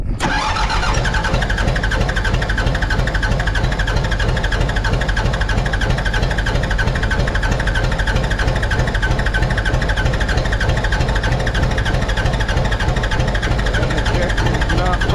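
A Mitsubishi BD2F dozer's diesel engine being revived after years idle fires up and runs loud and close, a rough rapid clatter and throb holding steady throughout the clip.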